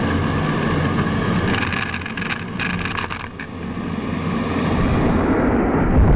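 An F-22 fighter jet powers up and climbs straight vertical, a loud, steady broadband engine roar that holds throughout with no voices.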